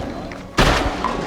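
A single loud shotgun blast cracks out from a blind while duck hunting, sudden and close after a quiet moment, then fades into the open air.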